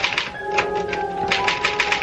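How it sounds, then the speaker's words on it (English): A typewriter clatters away in a quick, uneven stream of keystrokes, each strike a crisp mechanical clack, close and steady with no voices over it. "I had to get back to that infernal machine, the typewriter."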